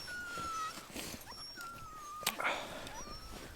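A sled dog whimpers in thin, drawn-out high whines on the Greenland ice sheet, repeated several times over faint background noise and a brief clatter.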